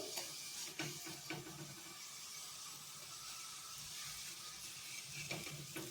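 Banana slices fry in hot oil in a pan as they are stirred and turned, a steady close hiss and sizzle with a few sharp scraping knocks of the spatula.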